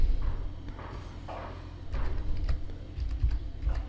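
Soft clicking of a computer keyboard in a quiet room, with irregular bursts of keystrokes and small thuds, fairly close but low in level.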